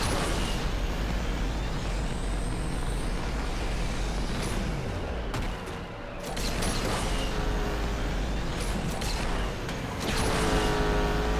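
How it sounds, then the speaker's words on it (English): A bugged car engine sound in Asphalt 8 whines and hisses oddly, with rising and falling tonal sweeps and a brief dip in the middle, no voices. "I want you to listen to the bugged engine sound of this car"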